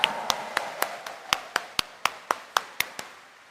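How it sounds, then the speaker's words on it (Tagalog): Sharp claps from a church congregation ring out in a steady, evenly spaced rhythm, about four per second, clear and close with a little room echo. "taas nga ang kamay at pumalakpak ng mas malakas"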